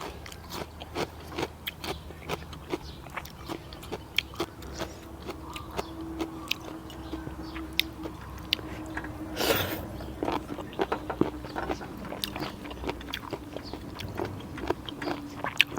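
Quiet, close crunching and chewing of crisp bitter melon and radish, a crisp irregular series of bites and munches with no talking.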